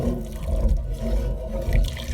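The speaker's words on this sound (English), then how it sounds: "now I'm going to whisk in my hot milk at the same time here" Hot milk whisked into a broccoli and cheese casserole sauce, a steady close liquid swishing and churning in the pan with a continuous low wash, no talking.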